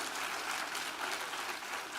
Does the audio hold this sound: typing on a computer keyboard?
no